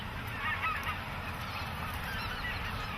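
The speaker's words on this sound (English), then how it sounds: "And that is our white-fronted goose or speckle-bellied." A white-fronted goose, the speckle-belly, calls with yodel-like honks over a dense, steady flock chorus of geese, loud and continuous throughout with no talk.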